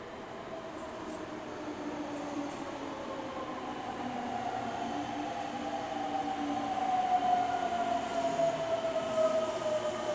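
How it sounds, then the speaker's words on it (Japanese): A Nagoya Subway Tsurumai Line 200 series train pulls into an underground station, its steady rumble building in loudness over several seconds, with a thin rising squeal from the wheels and brakes as it arrives. "赤池行きが参ります"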